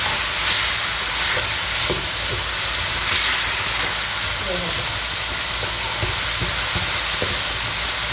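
Pork sizzles and hisses loudly as it is stir-fried with vegetables in a hot pan, with occasional scraping and stirring clinks over the steady frying noise.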